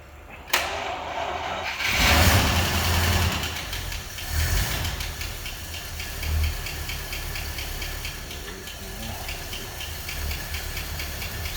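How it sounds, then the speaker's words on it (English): A Packard car runs with a noisy fuel pump, its engine idling with a steady knocking, ticking rhythm and a hissing wash after a brief startup surge, heard close and alone. "Fuel pump's kind of noisy."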